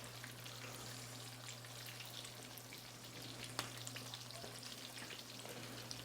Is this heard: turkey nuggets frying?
yes